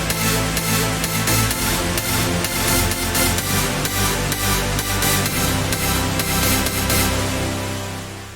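Four synth shots layered together in Cubasis 3 for an EDM track, forming a loud, wide, sustained chord stack with rhythmic pulsing, fading slightly at the end.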